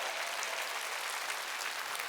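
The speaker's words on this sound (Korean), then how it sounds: "믿는 사람만 박수." A church congregation at a Wednesday worship service claps together, steady dense applause filling the room for a couple of seconds without a break.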